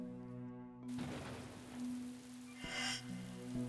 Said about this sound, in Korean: 그때는요, 추적추적 비가 내리고 있었습니다